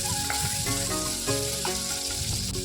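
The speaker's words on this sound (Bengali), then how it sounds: "এরপর একটা কোচানো পেঁয়াজ, এরপর আদা রসুনের কুচি দিয়ে ভালো করে ভেজে নেব।" Chopped onion with minced ginger and garlic frying in hot oil in a pan, a dense, continuous close sizzle with faint crackles throughout and no voices.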